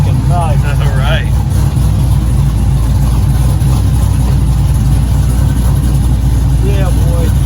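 A third-generation F-body Camaro engine runs after a Tremec Magnum F manual transmission install, a loud steady rumble with brief revs, while people talk excitedly over it.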